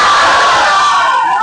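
A large crowd at an Islamic religious gathering shouts a loud, sustained collective response to a chanted slogan, a dense roar filling the whole moment.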